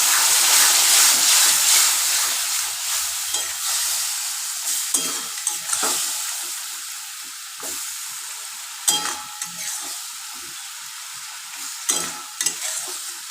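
Ground masala in a pan sizzles loudly just after rinse water from the mixer jar is poured in, a bright continuous frying hiss that slowly settles, broken by occasional stirring scrapes.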